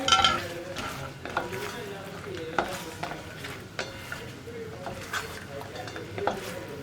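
Fried plantain chips being stirred into jaggery syrup in a pan, giving soft repeated scraping and faint sizzling at a steady, low level.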